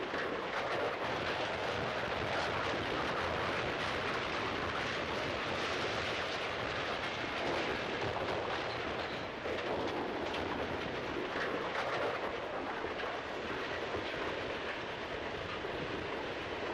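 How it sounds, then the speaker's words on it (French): German military train hauling tanks in the film La Bataille du rail, a dense continuous rumble and rattle of rolling wagons that stays loud and steady throughout with no voices. "la scène où l'on voit le train militaire allemand porter plusieurs chars être jetés dans la vallée"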